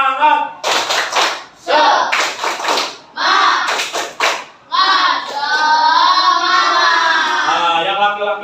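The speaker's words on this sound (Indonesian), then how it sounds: "Sebelum lanjut, tepuk semangat dulu." Indonesian teacher-training class audience performing a rhythmic spirit clap, bursts of clapping in patterned beats mixed with loud group chanting and voices, ending in a sustained cheer-like shout.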